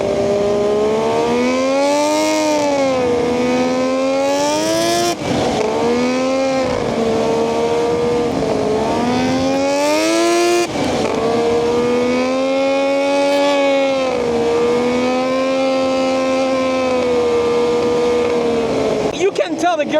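A 140-horsepower sleeper ATV engine revs up strongly through several rising and falling pulls, loud and close, with harmonic engine tones sweeping upward under half throttle and brief gear-change dips between surges.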